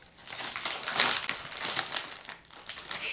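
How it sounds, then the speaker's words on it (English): Crinkly plastic wrapping of an Oreo cookie package is torn and ripped open up close, a loud continuous crackling and crumpling with no talk. "So, you got to really rip it up."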